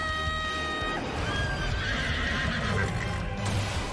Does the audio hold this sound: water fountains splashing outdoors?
no